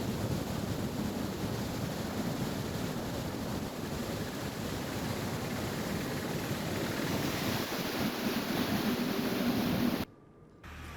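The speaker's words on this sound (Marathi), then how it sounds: "अंबरनाथमध्ये मुसळधार पावसामुळे अनेक भाग जलमय झाले" Heavy rain and floodwater on roads in Ambernath make a dense, steady roar that holds evenly for about ten seconds, then cuts away abruptly to a quieter background.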